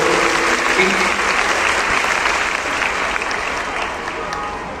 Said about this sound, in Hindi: उनके लिए जोरदार ताली की गर्जना करो